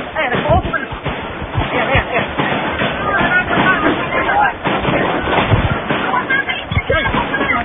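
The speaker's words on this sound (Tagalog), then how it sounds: "Sunod-sunod na putok, Mel." A rapid string of sharp bangs like gunfire during the Manila hostage standoff, repeated irregularly over a continuous background of crowd noise and shouting voices.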